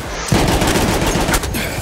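Machine gun fire in Battlefield 1 on PC, a dense, steady burst of rapid shots that begins about a third of the way in and keeps rattling, close and loud, with no talk over it.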